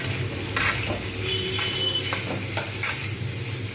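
Shrimp and bottle gourd greens frying in a pan for a Bengali chorchori, a steady close sizzle with occasional scraping and stirring clinks of a utensil against the pan, no talking.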